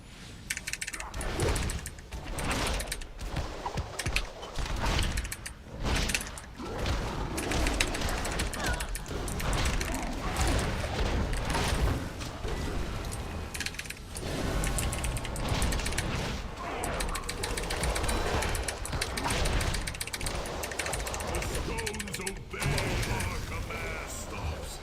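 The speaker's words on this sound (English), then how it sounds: "my keyboard is very loud, guys" Loud mechanical keyboard clatters in dense, continuous rapid keystrokes throughout, close to the microphone, with a voice talking in places over the clicking.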